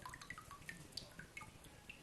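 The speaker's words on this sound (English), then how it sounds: "And the water's going to go through." Water drains and drips through papermaking frames lifted from a pulp tank outdoors in a forest, with scattered light droplet plinks over a soft steady trickle, fairly faint.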